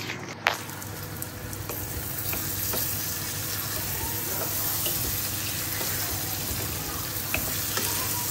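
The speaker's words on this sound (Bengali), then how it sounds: "এখানে কই মাছ ভাজছি" Koi fish frying in oil, a steady dense sizzle running throughout with a few faint clicks and taps from cookware.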